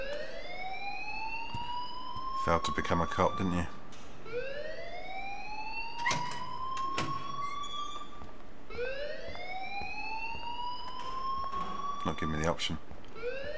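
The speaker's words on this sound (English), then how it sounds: "please turn off that alarm" A wailing alarm in the game Life Is Strange cycles through three rising sweeps, loud and repetitive, mixed with clanking and rattling bursts while someone talks over it.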